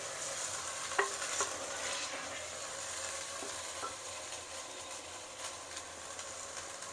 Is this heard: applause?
no